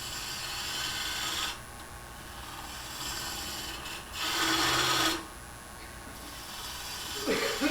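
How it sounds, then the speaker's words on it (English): A 3/8 inch bowl gouge cuts wood on a lathe with the bevel rubbing, giving a steady broadband rasping hiss that drops in and out, loudest in a short burst near the middle, with no talk. "one of my favorite tools is just a plain old ordinary 3/8 inch bowl gouge"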